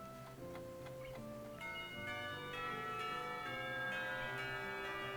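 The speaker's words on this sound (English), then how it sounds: "That was a different bell." A melodic school bell chime from the visual novel game Katawa Shoujo rings out as a sequence of clear, ringing tones that overlap and sustain, steady and moderately quiet with no voices.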